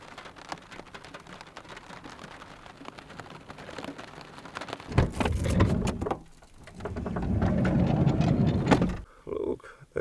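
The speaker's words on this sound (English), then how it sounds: "It's raining outside." Rain falling outside a camper van, a steady soft patter through most of the stretch, swelling into a louder hiss in bursts with short dips between.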